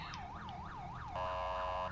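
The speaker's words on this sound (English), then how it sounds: "Why do you have your siren on?" A police car siren in LSPDFR, a GTA V mod, cycles in quick wailing sweeps, then switches briefly to a steadier, louder tone before resuming, close and continuous.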